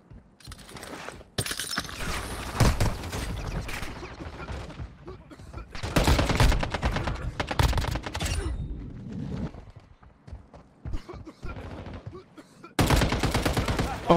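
Sustained gunfire from a Warzone Mobile gunfight, with dense automatic bursts and rapid shots running through most of the stretch, loud and close, broken by short gaps before resuming heavily.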